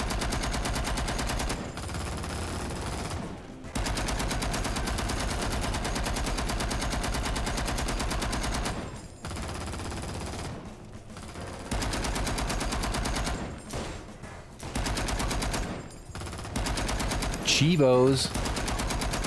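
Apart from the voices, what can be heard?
gunfire in XIII video game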